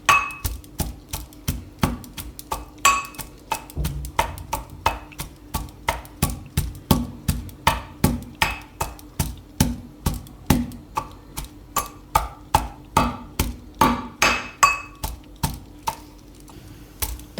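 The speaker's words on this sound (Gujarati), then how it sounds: "તો આ રીતનો આપણે મસાલો વાટી લેવાનો" Masala spices and red chilli pounded in a mortar, a steady run of sharp, regular thuds about two per second, close and clear with no talk, for a Gujarati pumpkin shaak.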